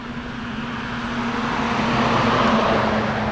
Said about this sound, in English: There's just lots of road noise.